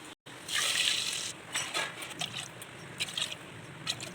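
Water poured from a tumbler into a pot of rice and dal for traditional Tamil ven pongal, a close, splashing pour lasting about a second, followed by softer sloshing and trickling dribbles.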